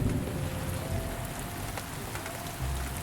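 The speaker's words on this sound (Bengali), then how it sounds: "কিছুক্ষণের মধ্যেই ঝড়ের সাথে শুরু হলো প্রবল বৃষ্টি" Heavy storm rain pours down steadily as a spooky-story sound effect, a dense continuous downpour with a low rumble underneath, loud and unbroken throughout.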